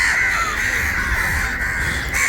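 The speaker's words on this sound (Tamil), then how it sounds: "இங்கே வேறுங்க இவ்வளோ காகம் உண்டு" Crows caw loudly and close at hand, their harsh calls overlapping in a continuous chorus with no pauses.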